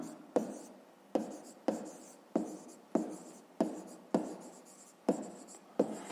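A pen writes on paper during a fifth-grade maths exercise, a series of about ten distinct strokes with sharp onsets and fading scratches in a steady rhythm, close and clear.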